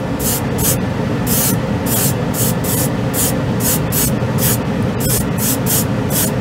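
An airbrush sprays Mission Models white urethane-based acrylic paint in about a dozen short hissing bursts, up close over a constant low compressor hum, with no voices.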